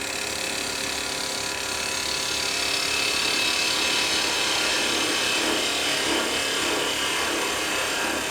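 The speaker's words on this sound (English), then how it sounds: "Using another spindle gouge." A spindle gouge shears wood on a lathe during a woodturning club meeting, producing a steady, continuous scraping and rushing hiss that holds at an even level throughout, with no talking.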